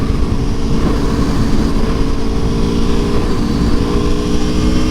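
A 2017 Aprilia Tuono V4 1100 Factory motorcycle accelerates, its loud, close engine roar building steadily with rising pitch over constant wind rush, no voices.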